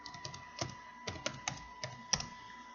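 A password is typed on a computer keyboard: about a dozen soft, close keystrokes in irregular short bursts over a quiet background.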